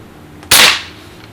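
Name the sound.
Winchester 1977XS pump air pistol firing a pellet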